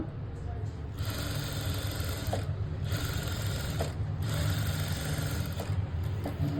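A sewing machine stitching along the edge of a blouse sleeve runs in a steady mechanical whir, stopping briefly a few times before starting again, close and continuous.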